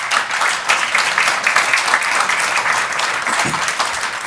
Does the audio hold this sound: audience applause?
yes